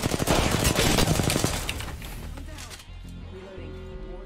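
Rapid automatic gunfire in Apex Legends, loud and dense for the first two seconds, then fading into lighter game noise with a steady low hum and a voice speaking over it.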